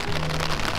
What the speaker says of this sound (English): it's still raining so hard